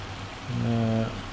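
Rain and hail falling in the Farming Simulator 25 video game: a steady, close hiss of precipitation, with a brief droning tonal hum rising midway and fading out.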